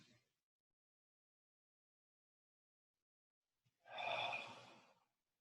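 A single yoga-class alternate-nostril breath: a brief faint trace at the start, then silence, and near the end one clear, breathy exhale lasting about a second, close and soft.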